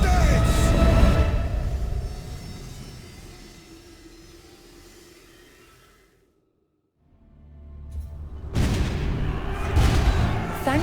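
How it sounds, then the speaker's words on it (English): Cannon fire from the Hundred Years' War in an Age of Empires IV campaign cutscene: loud, deep rumbling blasts that fade out into a brief silence, then a fresh heavy roar of booms. "Thanks to the explosive force of cannon fire, the French were close to victory in this century-long war."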